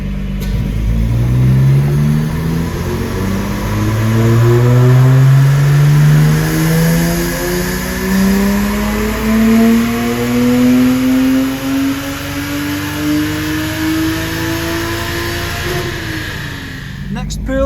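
A Lexus IS200 on a dyno during an ECU tune makes one long, loud pull, its engine note climbing steadily in pitch for about fifteen seconds before dropping away.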